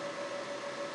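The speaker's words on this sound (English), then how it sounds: "That is the fans for the inverter." Cooling fans of a Generark HomePower 2 Plus 2200-watt portable power station inverter give a quiet, steady whooshing hum with a faint constant whine.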